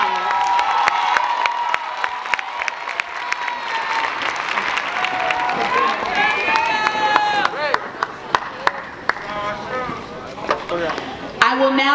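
A crowd at a 2024 high school graduation ceremony applauds and cheers graduating scholars with dense, sustained clapping, shouts and whoops that rise and fall over twelve seconds.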